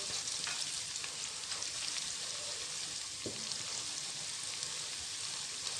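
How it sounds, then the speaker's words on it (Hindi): Steady hiss and crackle of cumin seeds roasting in hot oil for a mixed vegetable dish, a continuous close sizzle with occasional small pops and a brief stir. "इस टाइम पे हम इसमें ज़ीरा ऐड कर देंगे और इसको थोड़ा सा रोस्ट कर लेंगे।"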